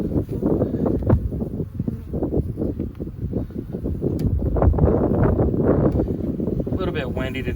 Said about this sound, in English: A little bit windy today, so hopefully the phone doesn't blow over.